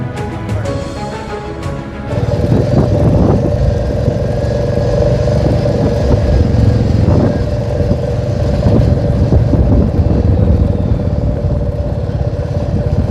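Motorbike ridden along a winding forest ghat road, a steady close engine drone with wind and road rumble throughout, growing louder after the first couple of seconds and holding at an even pace.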